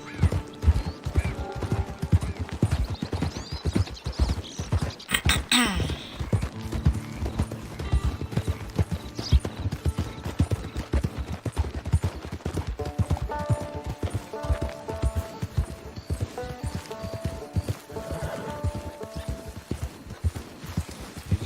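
Rhythmic hoofbeats of a galloping horse in Red Dead Redemption 2 Online, steady and close, with a whinny and some mechanical clatter partway through.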